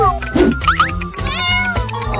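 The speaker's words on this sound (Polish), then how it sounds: "Ten puszysty kotek." A fluffy kitten gives a few short, rising meows against a busy, steady background, the calls clear but brief within about two seconds.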